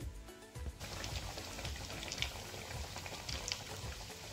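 Kachori deep-frying in warm oil, then on full heat to turn reddish and crisp: a steady, dense sizzle and bubbling crackle throughout, moderately close, with no talk.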